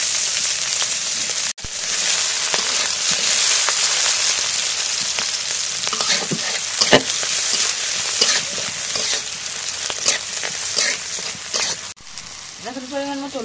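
Oil sizzles and crackles steadily in a pan while frying for a fish curry of katla with gourd, a continuous close hiss with brief stirring clatters, and a voice briefly speaks near the end.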